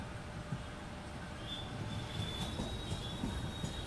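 Mumbai suburban slow local train on the Churchgate–Borivali line running past near Jogeshwari toward Andheri, a steady rolling rumble with wheel clatter and a drawn-out high squeal of wheels on rail, continuous and fairly close.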